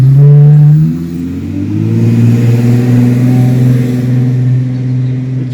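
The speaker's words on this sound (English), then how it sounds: "I mistook that neighbor's truck when he first cranked it up" A neighbor's truck engine cranks up and revs loudly nearby, with a sharp rising roar at the start that settles into a steady mid-pitched idle hum and slight clatter.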